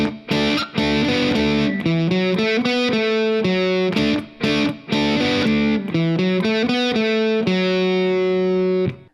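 Distorted electric guitar plays a riff, a loud, steady run of chugging chords and quick note changes with brief gaps, close and alone with no talking.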